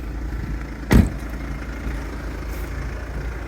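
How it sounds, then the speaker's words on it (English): A Mercedes-Benz E250 CDI Coupe diesel engine ticks over at idle with a steady low rumble, close by, broken once by a brief louder thump early on. "you can hear that lovely engine ticking over"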